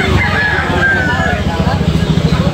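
A rooster crows loudly and close by, one drawn-out call, with clucking and low background noise beneath it.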